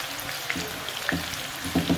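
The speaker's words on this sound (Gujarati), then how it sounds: "ગેસ ધીરો કરીએ, ધીમા તાપે મસ્ત ક્રિસ્પી અને તળીએ." Loose palak pakodas fry in hot oil in a kadhai, a steady bubbling sizzle close by with a few sharp pops and crackles near the end.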